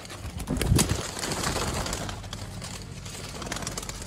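Sialkoti pigeons cooing and fluttering nearby on a rooftop, with a burst of wing flaps early on over a steady low rumble of a busy loft.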